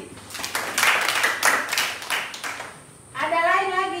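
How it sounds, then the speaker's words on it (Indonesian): Primary-school classroom in Kupang breaks into a few seconds of brisk, uneven applause from children, fairly close, followed by an adult voice speaking once the clapping stops. "Tepuk tangan untuk Yanti."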